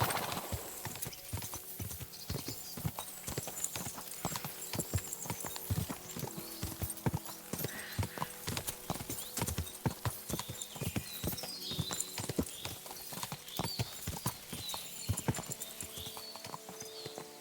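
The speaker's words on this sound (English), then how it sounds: "My, what a beautiful horse." Horse hooves clip-clop in a steady, rapid rhythm on a road in the medieval video game Kingdom Come: Deliverance II, sounding continuous and close, with a brief whinny and faint tack rattle.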